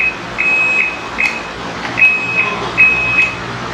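An electric scooter's indicator beeps in four short, evenly spaced electronic pulses over a steady background hum, close by and moderately loud.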